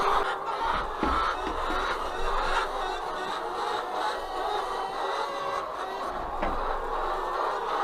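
Soft clucking from a group of farm chickens, scattered and continuous against a busy, noisy background.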